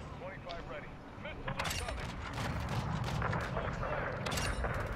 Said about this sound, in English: Now they really shooting at the gunship